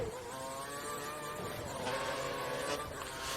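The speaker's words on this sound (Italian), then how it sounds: "Ma sentite la macchina, ragazzi." A race car engine in F1 2013 on the Shanghai circuit, a steady high-pitched whine with shifting tones and a brief rise in revs, close and loud with no talking.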